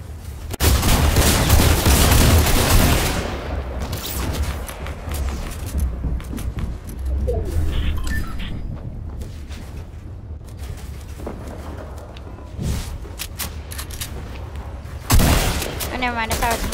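Fortnite video game gunfire during a Team Rumble match, opening with a loud burst of rapid shots and booms, then sporadic quieter shots and impacts, with a sharp burst near the end and players talking over it.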